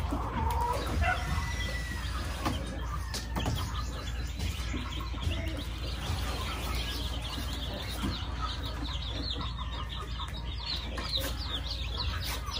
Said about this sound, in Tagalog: yung ating mga sisiyo po na napisa na po